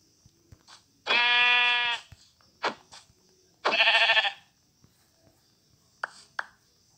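Minecraft sheep giving two long wavering bleats, separated by short clicks and thuds of game action, close and loud against a quiet background.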